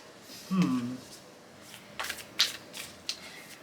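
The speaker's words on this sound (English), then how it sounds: "Let me just pull some Moonology cards just before we get started." Moonology oracle cards being shuffled and pulled, with a short voiced murmur near the start followed by several crisp papery flicks and slaps of the deck, close and fairly quiet.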